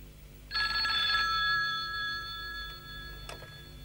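An old-style telephone bell rings once in a short burst in a crime action film scene, loud and close, then a faint tone lingers and a brief high click follows.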